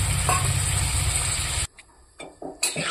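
A pan of vegetable curry with dengua and potato, with water added, bubbles and sizzles loudly at first, then cuts to quieter stretches of soft simmering and light stirring noises.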